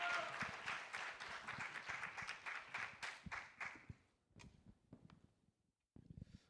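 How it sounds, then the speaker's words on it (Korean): Applause from a church congregation welcoming a pastor to the stage at a university theology revival service, dense clapping that thins out after about four seconds, leaving scattered claps and a short pause. "큰 박수로 환영해 주시기 바랍니다"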